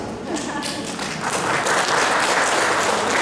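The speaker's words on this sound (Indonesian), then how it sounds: "Tepuk tangan untuk Pak Nur Asyid." Audience applause at a university law faculty Halal Bihalal gathering, a steady wash of many hands clapping that swells louder after the first second and carries on to the end.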